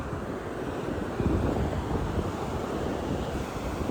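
Ocean waves wash onto a beach in San Juan, Puerto Rico, a continuous rushing surf mixed with wind buffeting, with one slightly stronger surge partway through and no voices.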